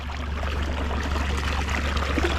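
Cold water gushes and splashes from a broken pipe on a flooded Ohio farm, a close, loud, continuous rushing stream with a low steady rumble beneath it.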